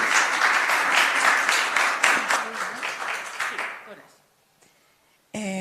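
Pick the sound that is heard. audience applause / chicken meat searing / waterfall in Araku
audience applause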